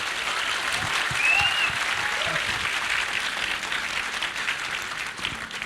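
Audience applause at a live literary festival session, a steady wash of many hands clapping close and loud throughout, holding level with no voices over it.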